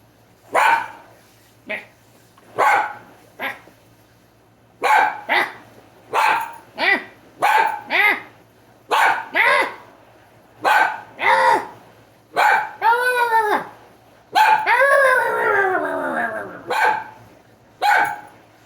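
A pet dog barking repeatedly indoors, loud sharp barks in an irregular rhythm that stretch into drawn-out howling, whining cries partway through, close to the listener.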